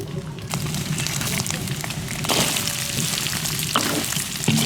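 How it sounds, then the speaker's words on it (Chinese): Pork belly fat sizzles steadily in a hot wok with scallion, ginger, dried chili, star anise and cinnamon, a loud, continuous frying hiss with occasional stirring. "五花肉上的油炒出来了，下入家常必备大料：葱姜、干辣椒、八角、桂皮、香叶、"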